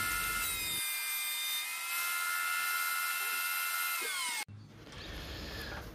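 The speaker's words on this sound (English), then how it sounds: "So I'm milling down a piece of 6/4 down to an inch and 3/8" A woodworking machine mills a 6/4 walnut board down in thickness, a loud steady high-pitched whine that runs for several seconds, then stops abruptly and gives way to a lower, quieter rumble.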